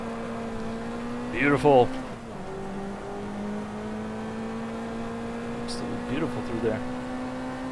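A Ford Cortina race car engine in the racing game GT Legends holds a steady droning tone that shifts pitch through gear changes, while someone talks over it in short bursts.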